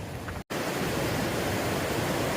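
Rushing water of Woods Creek along the Pacific Crest Trail near Pinchot Pass, a loud, dense, continuous roar of a fast mountain creek heard up close, broken only by a very brief dropout.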